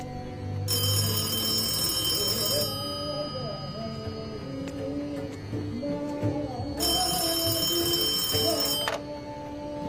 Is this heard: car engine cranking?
no